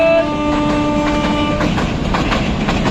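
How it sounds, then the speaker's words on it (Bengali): A local train passes close by, a horn tone held for the first second and a half before steady clickety-clack wheel rumble takes over, loud and continuous with no talk. "একখান লোকাল ট্রেন গেল ওইদিকে"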